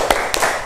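A classroom group of students performs the 'tepuk semangat' spirit clap, with a few sharp, distinct claps spaced across a brief moment, fairly close and moderately loud.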